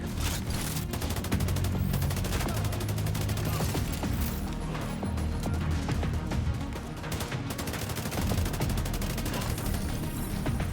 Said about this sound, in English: This is the ACR-E assault rifle.